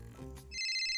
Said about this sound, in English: every time a viewer double taps the screen, it should send a notification to Nico's phone